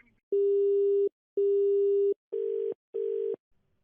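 Telephone busy signal after a phone call is disconnected: four steady electronic beeps of the same tone with short silent gaps between them, the last two shorter and slightly rougher, clean and alone.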